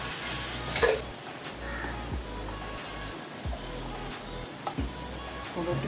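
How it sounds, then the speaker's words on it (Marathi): Ginger and garlic sizzle in a hot pan for a Malvani kalwa and fish dish, a steady close frying hiss broken by a few spoon scrapes and stirs, with no one talking. "चांगलं आलं लसूण भाजलं पहा चांगला"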